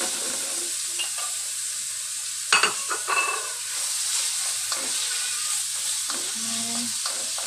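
Chicken frying in a pot with seasoning gives a steady, bright sizzle, broken by a few stirring scrapes and clatters against the pot, with a constant low hum underneath.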